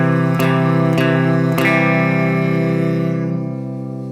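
A chord strummed on a guitar three times in steady succession during an ear-training drill, each stroke sustaining and blending into a ringing tone that fades at the end, close and clear with no voices.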